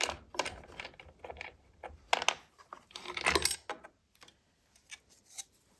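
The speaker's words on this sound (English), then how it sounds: "I'm going to take these dovetail stops off." Metal dovetail stops and washers being taken off a JOINTEC dovetail jig: scattered light metallic clinks and jingles, close and fairly quiet, with brief pauses between handling sounds.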